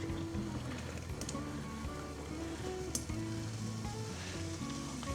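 Onion and sausages sizzle in a pan of butter and vegetable oil, a steady crackling hiss with scattered pops, fairly quiet and continuous.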